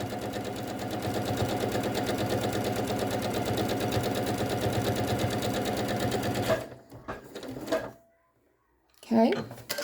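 A sewing machine stitches a quilt seam in a steady, fast mechanical run for several seconds, then stops, leaving a few brief handling knocks and rustles before a short final burst.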